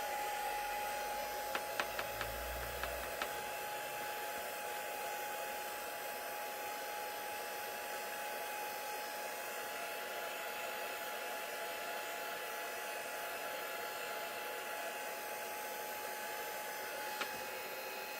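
A hair dryer blows steadily for the whole stretch, drying ink and shimmer spray on a stamped paper background, with a few soft clicks near the start.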